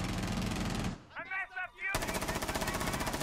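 Sustained rapid gunfire in the tactical shooter Rainbow Six Siege during a competitive match, dense automatic bursts filling the sound, pausing briefly while players talk over game sounds, then resuming loud and continuous.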